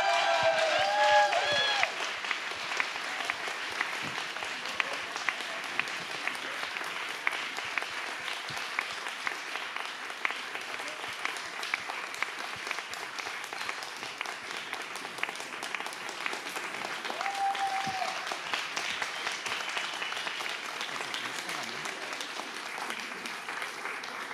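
Long, steady audience applause at an award gala in Stary Maneż, Gdańsk, as the audience prize is presented, a dense even clapping that holds at a constant level for over twenty seconds.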